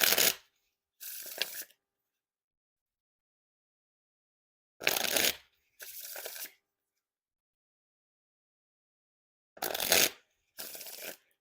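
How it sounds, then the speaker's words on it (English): Three pairs of crisp riffle shuffles of a Theory11 Mandarin Monarch playing card deck, each a quick fluttering burst of cards followed by a softer bridge rustle, separated by silence. "Now on to the Riffle Shuffle or Bridge Shuffle."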